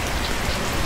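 Steady rain patters on surfaces in the aviation game Plane Mechanic Simulator, a dense, even hiss of drops that is fairly loud and unbroken throughout the brief moment, with no voices.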